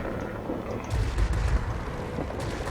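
Rapid aircraft guns firing from a Ki-93 heavy fighter during a World of Warplanes battle, a dense rumbling burst of gunfire with booming low end, loud and continuous over engine noise.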